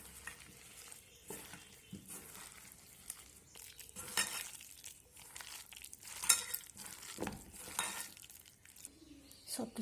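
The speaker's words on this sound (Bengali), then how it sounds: "এখন আমি সব কিছু হাত দিয়ে ভালো করে মিশিয়ে নেব।" Pumpkin flowers, gram flour, salt and a raw egg squished and stirred together by hand in a bowl, giving soft wet squelching and scraping in an uneven rhythm, close and moderately quiet with no talk.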